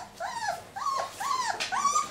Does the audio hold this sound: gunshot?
no